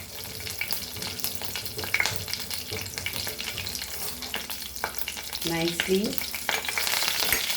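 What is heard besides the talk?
cumin and mustard seeds frying in pan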